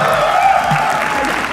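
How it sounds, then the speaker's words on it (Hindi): Crowd clapping at a Hindi stand-up comedy show, a steady wash of applause from the audience with faint voices and a comedian's speech mixed in. "बादल शर्मा के लिए तालियां एक बार"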